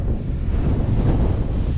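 Strong wind buffets a tent campsite on a wet night, a loud, continuous low rumble of gusts battering the microphone, with no talk.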